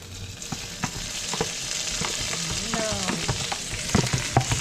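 Garlic frying in a pan for chicken tinola: a moderate crackling sizzle scattered with small pops and utensil clicks, close and continuous.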